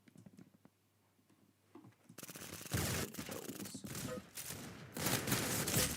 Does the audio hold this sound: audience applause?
no